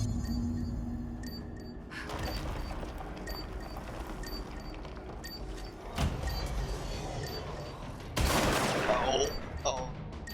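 Shotgun fire in the video game Control: a few loud, sharp blasts burst out of a dense, rumbling backdrop of combat noise, with the heaviest shot arriving near the end.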